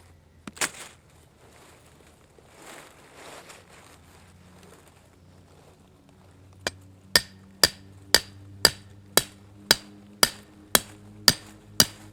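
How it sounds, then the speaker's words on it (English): Sharp, evenly spaced tomahawk chops striking wood outdoors, about ten hard blows in steady rhythm, fairly close and loud, following a quieter stretch of rustling movement. "Why are you using a tomahawk?"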